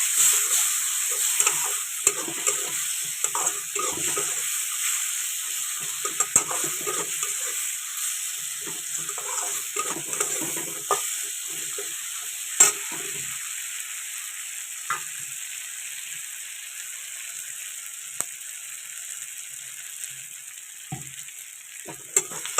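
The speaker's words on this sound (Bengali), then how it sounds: "এবারে এই মশলা দিয়ে দিলাম, আদা বাটা, জিরে বাটা আর লঙ্কা বাটা।" Ginger, cumin and chili pastes fry and are stirred in a pan, giving a steady sizzling hiss with soft scraping stirs and occasional sharper clicks throughout.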